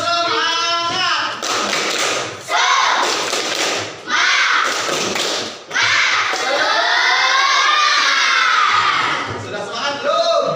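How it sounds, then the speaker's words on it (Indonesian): Children in a classroom do a rhythmic spirit clap, with patterned bursts of clapping and thumps broken by short pauses, mixed with loud shouting and chanting voices. "ayo kita bertepuk semangat dulu. Ayo. Tepuk semangat."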